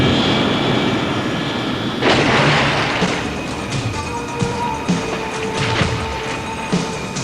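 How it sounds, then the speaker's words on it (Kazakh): An airplane takes off in an action film, a loud roar of jet engines that swells and holds, with a few sharp impacts and thumps layered over it. "Ал Салли болса ұшақтың ұшып кеткенін көріп"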